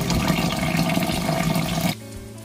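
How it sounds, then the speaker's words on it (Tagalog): Water gushes into a pot of rice being readied for cooking as plain white rice for a Filipino mango sticky rice dish, a loud rushing pour that stops abruptly near the end. "Tapos dagdagan natin ng tubig."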